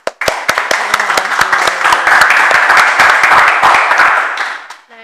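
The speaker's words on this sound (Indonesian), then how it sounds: "bisa beri tepuk tangan dulu." Close, loud clapping from a school audience during a student council session, starting with a few distinct claps, swelling into brisk applause, then thinning out and stopping.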